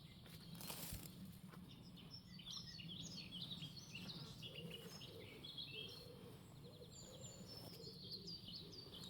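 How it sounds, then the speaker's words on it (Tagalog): Birds chirp and tweet in quick overlapping bursts, faint and a little distant, over a soft outdoor backyard garden background. "Mga ibon, maingay na."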